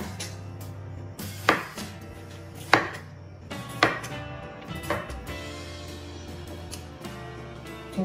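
A knife dices tomato on a cutting board, sharp chopping taps landing about once a second, close and moderately loud over a low steady background hum.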